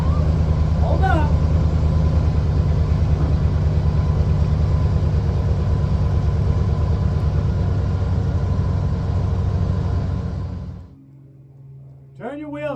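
A vehicle engine idles with a steady low rumble for about eleven seconds while it is guided into position near a fence, then cuts off abruptly, leaving quieter background with brief chirping sounds near the end.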